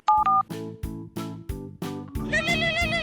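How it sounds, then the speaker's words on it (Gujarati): A phone rings in a Gujarati comedy scene: two short electronic beeps give way to a series of even, pulsing ringtone bursts that build into a warbling melodic tone, loud and close, with no speech. "ઉભો રે, મારે ફોન આવે છે."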